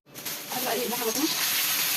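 Meat sizzling in a pan with salt: a steady, close hiss of frying that starts abruptly and holds throughout, with faint murmuring underneath.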